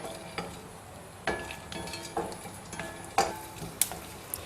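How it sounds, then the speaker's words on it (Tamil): Dried turkey berry vathal fries in a little oil, a soft continuous sizzle broken by irregular sharp ticks and scrapes of stirring. "அதே எண்ணெயில் பார்த்தீங்கன்னா இந்த சுண்டக்காய் வத்தல் போட்டுக்கிறேங்க"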